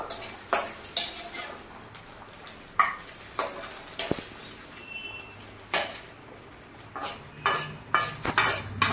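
Spoon or spatula scraping and clinking against a metal pan and bowl as dry scrambled egg for egg chicken fried rice is scooped out, a steady series of close, sharp taps and scrapes with no talking.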